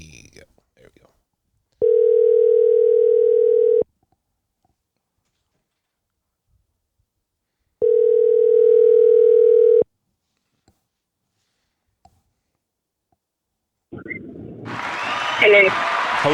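A telephone line tone sounds while a call goes out to a radio show caller: two long, steady electronic tones separated by silence, then noisy rustling and background sound as the line connects.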